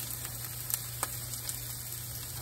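Canned garden squash, Southern fried, crackles in a pan in a soft, steady sizzle with a few small pops over a low background hum.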